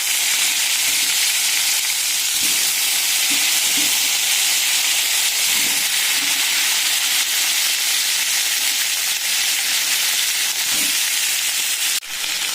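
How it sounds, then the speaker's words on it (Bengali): Cut potatoes and eggplant fry in hot oil in a kadai, a loud, steady, close sizzling hiss that runs unbroken, with small bubbling crackles throughout. "এবার দিয়ে দিচ্ছি কেটে রাখা আলু বেগুন।"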